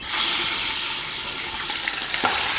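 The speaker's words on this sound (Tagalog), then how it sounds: "So meron tayo dito pressure cooker na merong mainit na mantika. Kita nyo, umuusok na. At isisir natin to." Meat sears in smoking hot oil inside a pressure cooker, making a dense, loud, continuous sizzle with brief crackles as it is stirred.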